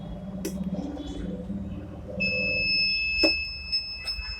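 As the countdown on a mug printing machine runs out, it gives a steady high electronic beep that holds for about two seconds, after a few faint clicks and a low hum.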